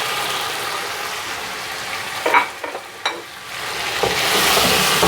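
Mutton sizzles with yogurt in a frying pan, stirred in a steady crackling fry with a few louder scraping stirs partway through. The sizzle swells again toward the end.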